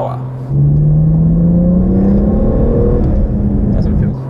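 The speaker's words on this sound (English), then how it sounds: "It doesn't even sound like a turbo engine, does it?" BMW 1M with a twin-turbo N54 engine and manual gearbox accelerating hard, a loud rising engine drone climbing steadily in pitch from inside the car.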